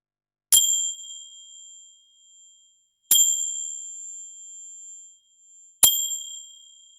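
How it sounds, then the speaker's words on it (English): A meditation chime rings three times at the close of a mindfulness practice, each clear bright strike decaying slowly into near silence before the next, evenly spaced and alone without talk. "I'll now ring the chime 3 times to signal the end of our practice"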